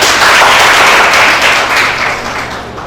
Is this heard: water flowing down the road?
no